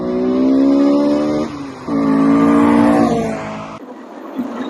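A Honda Integra Type-R DC2 engine revs hard into VTEC in two strong, rising pulls with a brief dip between them, loud and close, then drops away as the throttle lifts.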